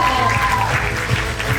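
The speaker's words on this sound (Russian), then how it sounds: "Максим, эти аплодисменты в вашу честь." Audience applause for an award winner at a college awards ceremony, steady dense clapping filling the room without a break, fairly loud and continuous throughout.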